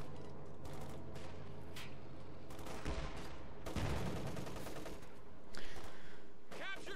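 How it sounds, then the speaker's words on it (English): Sustained MG34 machine gun fire in a World War II strategy game, bursts chattering nearly nonstop amid other gunfire and battle effects, loud and dense, with heavier impacts near the middle. "opening up on these paratroopers with their MG34, doing great damage"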